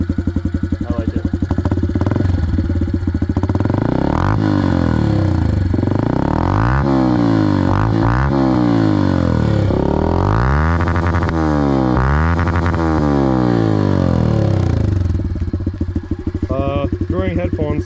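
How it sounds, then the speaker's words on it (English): A 2022 Honda CRF110 dirt bike with a loud aftermarket exhaust runs close by, revving repeatedly in rising and falling sweeps over a steady throbbing idle for most of the stretch before settling down near the end. "This exhaust is pretty loud."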